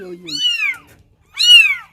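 Motherless young kittens rescued in a Turkish village give two loud, close, plaintive meows separated by a brief pause, with a low voice murmuring faintly at the start.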